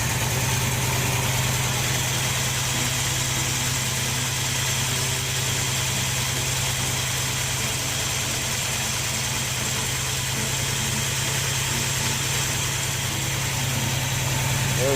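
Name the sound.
car engine idling and warming up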